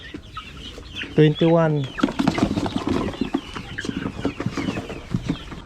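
Rhode Island Red chickens cluck in short, close bursts with a louder run of calls early on, while a person speaks briefly amid the flock's ongoing chatter.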